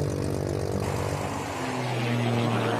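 A race plane's propeller engine drones steadily and loudly during takeoff at Rocky Mountain Raceway in Beaver, Utah, its pitch shifting slightly as it climbs away.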